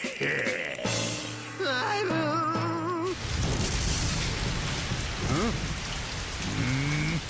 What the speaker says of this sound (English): that rain ruined everything